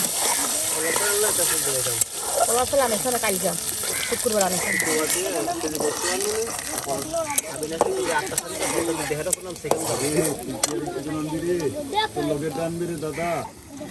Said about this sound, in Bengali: আর এটা কিন্তু তেলে ভেজে নেওয়া হচ্ছে